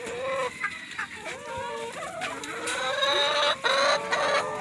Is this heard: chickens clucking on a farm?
yes